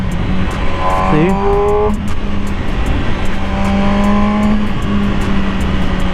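A 2020 MV Agusta Brutale 1000RR engine revs while riding, heard up close with rising and falling tones as gears change, steady and loud throughout.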